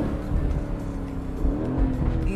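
A 2023 Aston Martin Vantage engine accelerates hard from inside the cabin, giving a loud, rising growl with shifting harmonic tones over a couple of seconds.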